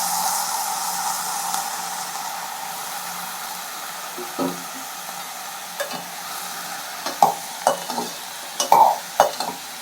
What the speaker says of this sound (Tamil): நல்லா கிண்டி விட்டுட்டு